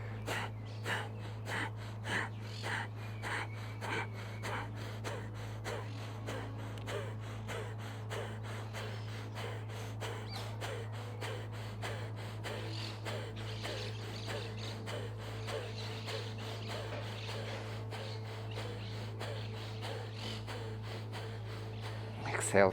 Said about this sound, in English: we're going to add here just a short Kapalabhati, breath of fire